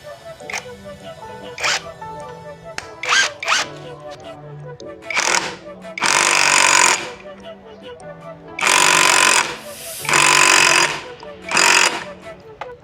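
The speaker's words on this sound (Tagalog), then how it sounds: "pwede na natin siyang higpitan gamit yung impact" An impact wrench tightens CVT parts on a SIP 125 scooter during cleaning and maintenance. Several loud, close, rattling bursts of a second or so each are separated by quieter clicks and handling noises.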